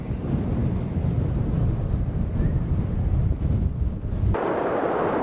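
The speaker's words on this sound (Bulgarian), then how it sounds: "страшен вятър, много неприятен" A strong headwind batters a runner during an ultra race in Lapland, a continuous low roaring buffet that shifts abruptly in tone near the end.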